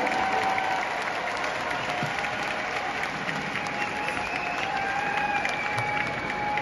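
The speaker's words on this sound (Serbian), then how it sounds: "Dajte jedan aplauz samo za njih." A live concert audience in an arena applauds steadily for a women's klapa group, a dense, continuous wash of clapping with some crowd noise, held evenly throughout with a faint tone running underneath.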